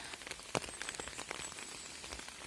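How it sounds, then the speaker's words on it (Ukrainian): Heavy rain falling on a quiet village street in Germany, a dense steady patter of drops with a few louder nearby splashes, continuous and fairly soft. "Іду, дощара йде."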